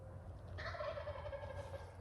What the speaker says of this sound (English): He's gobbled over 30 times.